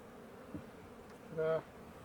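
Honey bees in a hive give a faint, steady buzz throughout, with a brief louder drone swelling near the end.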